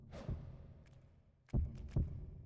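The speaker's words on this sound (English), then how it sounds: "Yeah, the heartbeat." A heartbeat in Castlevania: Lament of Innocence, low muffled double thumps repeating at a slow, steady pace, fairly faint.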